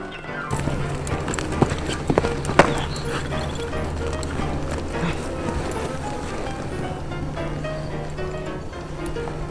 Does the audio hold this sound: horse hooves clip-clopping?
yes